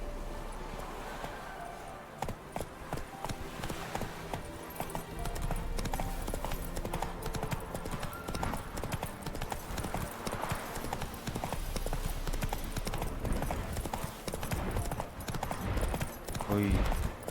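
Roach the horse gallops in The Witcher 3, a steady loud clip-clop of hooves running throughout with game music and ambience, someone talking over it.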